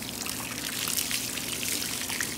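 Water trickling and splashing steadily while a dog gets a bath in a chair, a continuous close-up stream with no voices.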